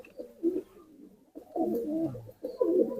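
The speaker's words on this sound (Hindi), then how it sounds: "लो भाई, इस कबूतर को देखो, ये भाई ताका कबूतर है।" A taka pigeon, a home-bred competition bird, coos in three soft, throaty bursts close by, with short gaps between them and no voices.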